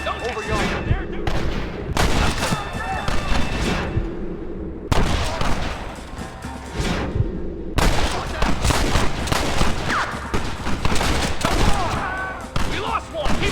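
Sustained gunfire from a Red Dead Redemption shootout at a gate, with dense overlapping shots and bursts filling nearly the whole stretch, loud and close, while voices shout over the battle.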